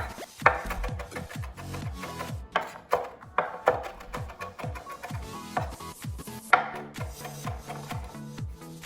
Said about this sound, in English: So I'm just gonna give this a chop. And because I go in the meatballs, I like it a little bit finer